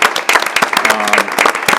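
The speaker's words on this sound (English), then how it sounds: "we can give our teachers a big round of applause" Audience at a school board of education meeting claps for teachers in short bursts of applause, with voices mixed in through the brief stretch.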